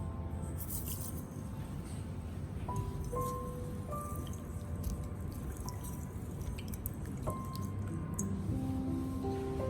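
Ginger being cleaned in a bowl of salted water gives off quiet drips, squishes and small wet splashes, soft and close, with faint clinks and no talking.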